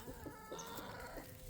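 Chickens at a backyard chicken coop cluck in short repeated calls, several birds close by over a steady outdoor background, with no talking.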